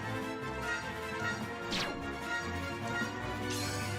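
Game combat from Kindred Novel, an RPG Maker title: a smashing strike lands on a large enemy, with a sharp whooshing hit near the middle and another toward the end over a steady dense music bed.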